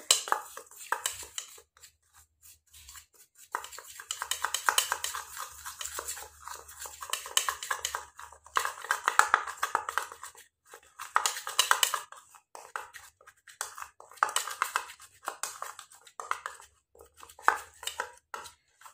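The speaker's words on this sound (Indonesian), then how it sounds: "Kemudian dua bahan ini kita aduk." Balsamic cleanser being stirred with a second skincare ingredient in a small container, producing intermittent close scraping and clinking strokes with short pauses, no talking.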